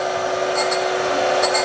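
A Radiac 60-grit very open structure grinding wheel grinds tool steel, giving a steady whirring hum with a faint high scratch that swells twice, brief and close.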